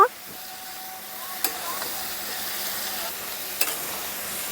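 Cabbage frying with katla fish head in a pan, a low steady sizzle as it is stirred, with a couple of sharp spatula clinks against the pan.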